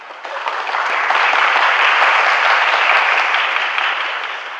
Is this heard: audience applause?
yes